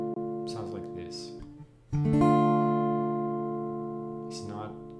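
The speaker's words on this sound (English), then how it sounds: "In comparison, the minor sound sounds like this." A single minor chord struck cleanly and left to ring, decaying slowly over a few seconds, with a voice speaking briefly before and after it.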